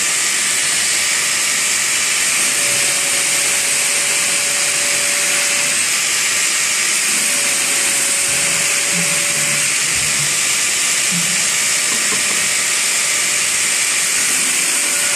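A knife blade is held close against a knife grinder, giving a steady, loud abrasive hiss and whine that runs continuously throughout without talking.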